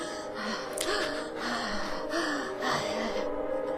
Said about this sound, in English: I hear someone breathing.